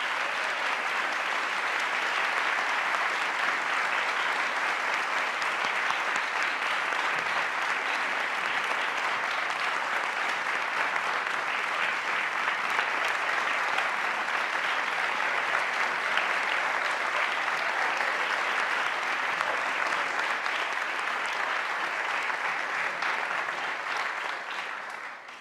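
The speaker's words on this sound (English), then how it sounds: "can we please give a round of applause for our outstanding District 1 students?" An audience applauds students at a county board of education meeting, with steady, dense clapping that holds for about 25 seconds before fading at the end.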